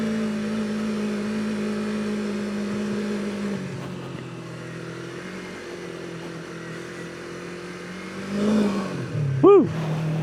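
A beginner sport bike's engine drones steadily while riding off-road across a field, holding a constant hum before a short rev rise near the end.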